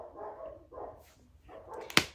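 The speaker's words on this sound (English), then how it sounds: "the dogs are so loud" Dogs bark indoors in a home, a few rough barks spread across a couple of seconds, moderately near, with one sharp louder bark or clatter near the end.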